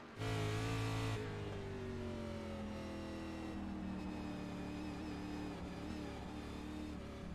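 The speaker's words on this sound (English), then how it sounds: "Let's ride along with Hunter Peach and listen to the acceleration." Race car engine with harmonics sliding as the throttle is eased and reapplied, a loud burst at first then a steady, slightly wavering drone, heard from the car itself during a TDFW race at Watkins Glen International.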